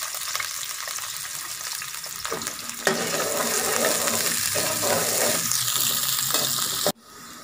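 Onions frying in ghee in a kadai make a loud, continuous sizzle with scraping stirs, growing busier partway through and cutting off abruptly near the end, with no talk.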